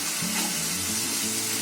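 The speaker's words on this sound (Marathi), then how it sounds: "आता 30 मिनिटं ही आपली ग्रेव्ही फ्राय झाली ना" Gravy for reshmi chicken fries in a pan with a brief, steady, close sizzle and no voices.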